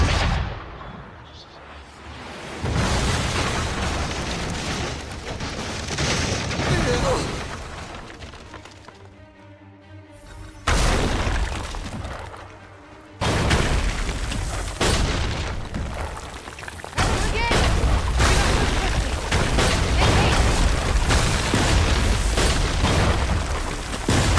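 Gunfire and explosions in the video game Assassin's Creed 3, a dense, loud barrage of booms and blasts that rolls on almost continuously, with one brief lull near the middle.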